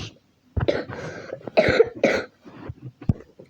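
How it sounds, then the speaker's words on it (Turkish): A burst of several harsh coughs close to the microphone, followed by a couple more rough coughs and throat clearing, with no speech. "Öksürüyorum ama"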